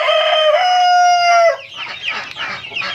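A free-range village rooster gives a loud, close crow lasting over a second, followed by several hens clucking busily on a chicken farm.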